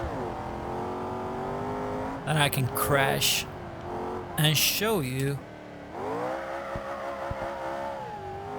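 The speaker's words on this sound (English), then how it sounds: "Listen to the exhaust, and let's find a car" A modded Mercedes-Benz in BeamNG Drive revs hard, its exhaust droning and sweeping in pitch with two loud, crackling bursts, close up while someone talks over it.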